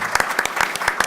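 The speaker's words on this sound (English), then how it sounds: "Let's give him another round of applause." Scattered clapping from a small audience at an oncology roundtable event, a handful of distinct claps close together for about a second.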